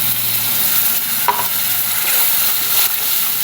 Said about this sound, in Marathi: छान तेल सुटेपर्यंत हे सगळं आपल्याला आता परतून घ्यायचं